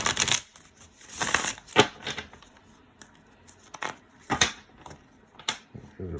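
A deck of tarot cards shuffled in quick bursts of riffling and flicking, several brisk broadband rushes separated by short pauses, close and fairly loud.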